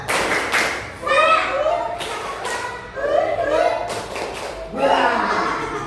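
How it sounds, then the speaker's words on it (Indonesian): Schoolchildren in a coding and AI lesson do a rhythmic spirit clap in bursts of patterned claps and chanting voices, repeating in about four rounds with brief pauses between them. "Oke, sekarang tepuk semangat nih. Tepuk semangat."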